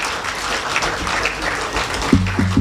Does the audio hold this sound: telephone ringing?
no